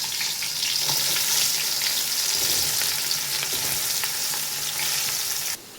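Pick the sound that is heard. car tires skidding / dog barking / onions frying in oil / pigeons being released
onions frying in oil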